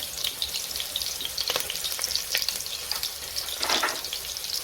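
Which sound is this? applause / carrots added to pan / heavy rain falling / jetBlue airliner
carrots added to pan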